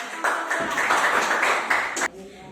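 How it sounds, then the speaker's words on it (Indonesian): Classroom students clapping together for group 1, a burst of rhythmic claps lasting about two seconds, fairly close and loud, then stopping abruptly. "Tepuk tangan dulu untuk"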